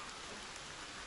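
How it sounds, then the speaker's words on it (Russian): Rain falls steadily in a village as a soft, even, continuous hiss, faint and unbroken, with no voices. "А что дождь идет?"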